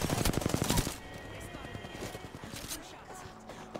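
Rapid automatic gunfire in the Apex Legends video game bursts loudly for nearly a second, then fades into quieter distant shots and game noise under a speaking voice.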